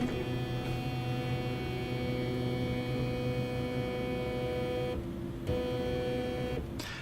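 A 20-year-old film scanner runs with a faint, steady electrical hum and soft mechanical drone, with a brief quieter gap near the end.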